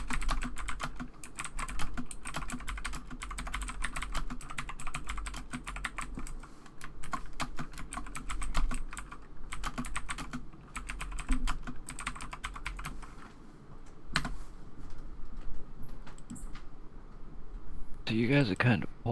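Clicky mechanical keyboard keys pound away in fast, steady bursts close by, with voices talking over the typing and a different brief noise near the end.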